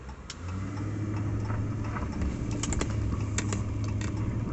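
A car driving along a quiet rural road near a winery and caves, a steady mid-level engine drone with tyre hum that holds fairly constant, close and unbroken, with faint ticking and clicking on top.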